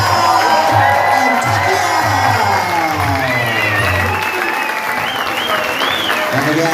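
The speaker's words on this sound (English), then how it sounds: "a round of applause for Superbank and" A crowd at a Muay Thai fight night on Koh Phangan applauds loudly and continuously, dense clapping close by with a few whoops, while an announcer talks over it.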